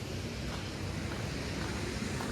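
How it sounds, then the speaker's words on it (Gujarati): Water released from Dantiwada dam rushes and surges in a steady, broad roar, continuous and unbroken, with some wind buffeting and no voices. "પાણી જાય છે કારણ કે છોડવામાં આવેલું છે"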